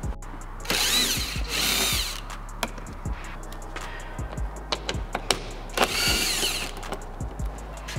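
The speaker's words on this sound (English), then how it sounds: "we're going to remove the two 10mm bolts on each side" A power tool whirs in two separate bursts to remove 10mm bolts at the front of a 2016-18 Honda Civic Sedan, with scattered clicks and knocks of handling in between.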